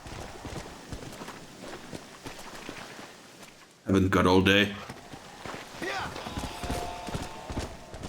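Horse hooves clip-clop at a steady walking rhythm in the Red Dead Redemption video game, faint under ambient game sound, with a loud burst of spoken dialogue partway through.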